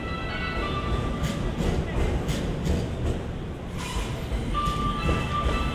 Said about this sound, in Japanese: 列車は短い3両編成で到着。